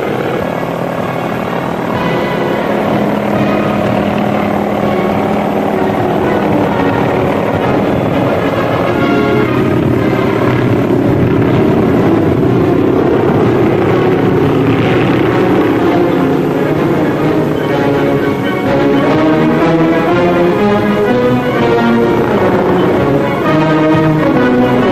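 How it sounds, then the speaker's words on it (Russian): Soviet Mil helicopters fly at a 1951 Aviation Day display, their rotors and engines making a loud, continuous droning thrum that wavers slightly in pitch throughout. "Это советские вертолеты конструкции инженера Миля."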